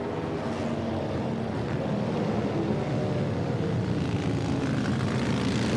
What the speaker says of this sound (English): Just a nice big twin cylinder. A mobile air compressor, I call it.